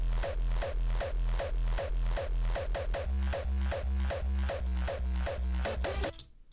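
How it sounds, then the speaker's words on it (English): A hardstyle main kick drum sample in FL Studio hits in a steady, loud, evenly spaced pattern, each punchy, distorted thump ringing with a pitched tail, then cutting off abruptly near the end. "And the main kick sounds like this."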